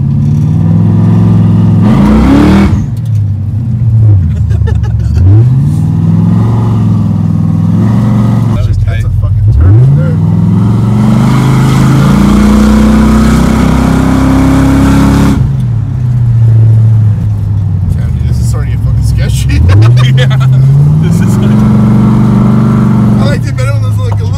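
A Chevelle doing burnouts, its engine revving hard in repeated rising sweeps that drop back and climb again, loud and close, with brief lulls between pulls and a little talk mixed in.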